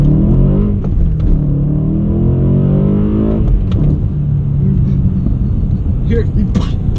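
BMW E92 M3 with a manual gearbox on the move, a loud low engine drone with a rising intake rush and rumble from inside the cabin, while people talk over it.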